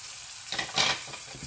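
A tomato and yogurt mixture hits a hot pan, the quiet background suddenly bursting into a loud rushing sizzle that swells and settles within a second, close up with no voices.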